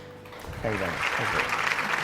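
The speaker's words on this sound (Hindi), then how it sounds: "आप लोग यहाँ सेट पे खड़े, तालियां बजा दें प्लीज।" People on a TV studio set break into applause after a short stretch of someone speaking, and the clapping continues steadily beneath his voice.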